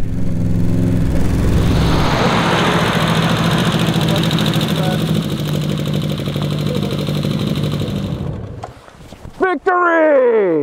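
A revived, once-abandoned Honda with a previously seized engine runs steadily in second gear, a loud continuous drone that fills most of the clip before cutting off near the end, where a voice briefly speaks.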